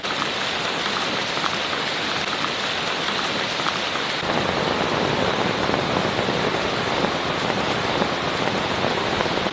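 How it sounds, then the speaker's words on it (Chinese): Rain pours steadily onto a jungle shelter in a tropical rainforest, a dense close hiss of drops on surfaces that grows heavier partway through and keeps going without a break. "回到庇护所又开始下雨"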